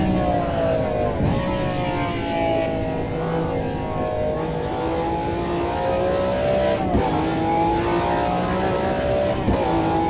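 A road car engine in the Automobilista 2 racing game drones steadily and loudly throughout, rising and falling in pitch as it revs through corners and shifts gears, with brief dips between pulls.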